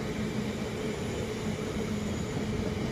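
Train passing through Nuneaton station on the West Coast Main Line, a steady, loud broadband rumble that holds evenly for the whole stretch with no talk.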